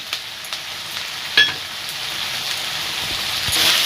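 Cashews, onion and garlic fry in a pan, giving a quiet, steady sizzle with a few small clicks and stirring taps.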